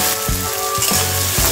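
Onions and chopped tomatoes fry in oil for muri ghonto, giving a loud, steady sizzle punctuated by three knocks of a stirring utensil.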